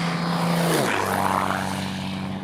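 Steady drone of an aircraft flying, with a droning engine tone that drops in pitch as it passes, continuous and moderately loud with no voices.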